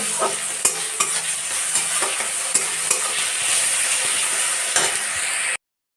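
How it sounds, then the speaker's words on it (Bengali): Garlic and ginger paste frying in a pan for ghugni hisses steadily while a spatula scrapes and stirs in regular close strokes, the sound cutting off abruptly just before the end. "আদা বাটা রসুন বাটায় ভালো করে ভেজে নেব"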